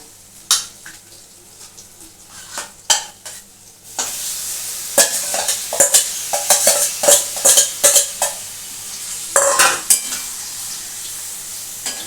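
Mutton keema frying in a hot pan, with sizzling and repeated scraping and clinks of a spatula stirring it, loud and close, following a few initial knocks.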